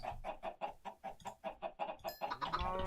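Chickens in the video game SkyFactory 3 cluck in a quick, steady rhythm of short repeated calls, fairly close, with a rising squawk near the end.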